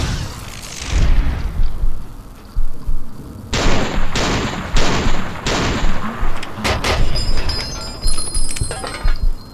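Gunfire in Fallout: New Vegas, a loud run of repeated shots in bursts with metallic clinks and impacts, dense through the middle and later stretch.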